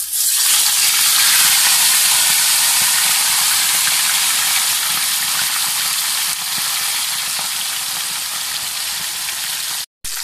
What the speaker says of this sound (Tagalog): pa-fry na natin yung ating tilapia sa mainit na mantika.